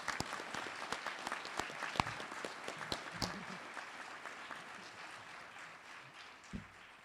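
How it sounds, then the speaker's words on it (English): Applause for doctoral candidates at a doctoral hooding ceremony: a crowd claps steadily at moderate distance, with a few sharper individual claps standing out before the sound thins toward the end. "One last round of applause."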